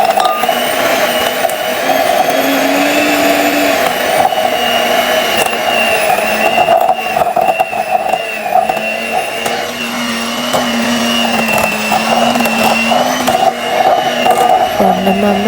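An electric hand mixer beats softened butter for a homemade birthday cake, a steady continuous whirring drone with slight shifts in pitch as the beaters move through the bowl, close and loud throughout with no talking.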